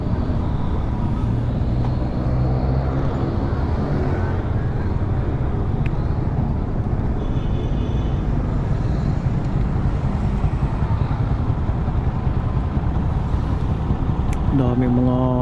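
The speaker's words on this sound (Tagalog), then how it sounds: "Daming mga motor ngayon." Motorcycles ride together along a road near Tanay, Rizal, early in the morning. A steady, dense engine drone and wind rush continue throughout, with a voice talking over it and a louder burst near the end.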